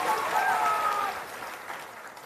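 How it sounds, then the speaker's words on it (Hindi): Meeting audience clapping at a political gathering, a dense wash of applause that is loud at first and then thins and fades, with a faint voice tone over it. "आप देखिए लोग कितना जोर से ताली बजा रहा है, जोर से बजाइए एक बार फिर से"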